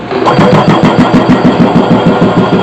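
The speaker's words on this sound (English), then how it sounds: "Turn on the vacuum pump." Vacuum pump for a milking setup starting up and running steadily, a loud mechanical engine-like drone with a regular pulsing throb, close by with no talk.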